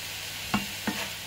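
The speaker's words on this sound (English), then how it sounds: "So what I'm going to do now is sprinkle in our taco seasoning mix." Ground meat sizzles steadily in a pan as taco seasoning is stirred through, with two quick scraping strokes of a utensil over the constant frying hiss.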